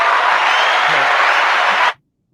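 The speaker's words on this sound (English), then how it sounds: "I never get applause at home" Applause on a podcast set, a dense burst of clapping from a small crew that carries steadily for about two seconds and then stops abruptly into silence.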